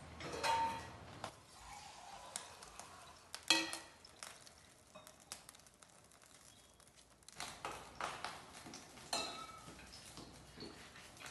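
Chopped onion fries and is stirred in a pan as tempering for Kannur-style tapioca (kappa puzhukku): soft sizzle with intermittent scraping and clinking of a utensil, quiet and close, in uneven bursts.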